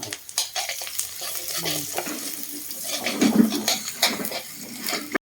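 Shellfish stir-fried with chili and garlic in hot oil, sizzling steadily while a utensil scrapes and stirs in irregular bursts, close and moderately loud.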